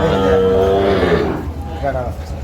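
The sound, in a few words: cow with calf at a cattle market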